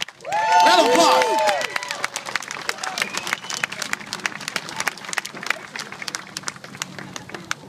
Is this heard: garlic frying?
no